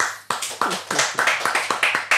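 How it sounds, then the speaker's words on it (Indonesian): A small group applauds in a studio podcast setting, with rapid hand claps that start abruptly and keep going in a dense, steady patter, fairly close and loud, with no talking over them. "Luar biasa, tepuk tangan lo."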